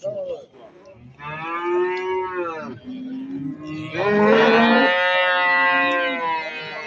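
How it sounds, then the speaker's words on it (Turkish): A cow moos loudly and close by in two long, drawn-out calls, the second louder and rougher, with faint background noise between. "Böyle bir inek var."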